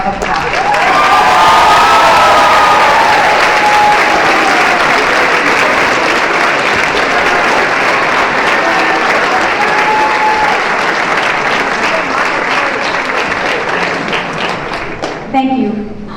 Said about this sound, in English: let's give these lovelies a big round of applause.